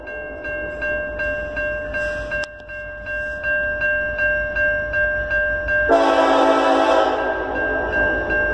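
A Norfolk Southern freight train rolls past at close range, its steady multi-tone horn sounding continuously over rhythmic wheel and car noise, with a loud burst of rushing rail noise joining in partway through.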